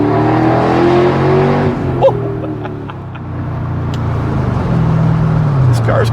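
A car's engine pulls hard while driving, its pitch climbing, briefly breaking with a shift around two seconds, then building again to a steady drone, with a voice speaking over it.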